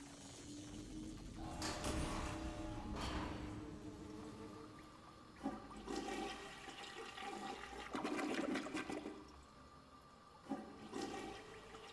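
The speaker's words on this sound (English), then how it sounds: "Flushing a toilet." Toilet flushing in Call of Duty: World at War Zombies, a long rushing, gurgling water surge that rises and swells in waves over several seconds, fairly faint and heard alone.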